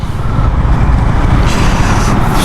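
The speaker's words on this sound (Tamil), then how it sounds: "செம்ம டிராஃபிக் கைஸ், முடியல." Heavy, jammed road traffic in Ambattur, Chennai, heard from a motorbike as a loud, dense rumble of engines and roadway noise with a brief hissing surge partway through, and no voices.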